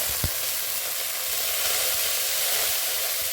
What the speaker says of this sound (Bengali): এর সাথে যোগ করে দেওয়া হচ্ছে হলুদ গুঁড়ো, জিরে গুঁড়ো এবং লঙ্কার গুঁড়ো। সামান্য একটু জল মিশিয়ে দেওয়া হচ্ছে।